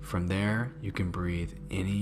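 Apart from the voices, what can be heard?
No everyday noises stand out.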